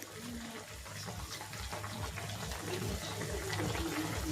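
Water pours steadily into a cooking pot of native chicken tinola, a continuous splashing gush with a low hum beneath it, close and fairly quiet, growing slightly louder toward the end.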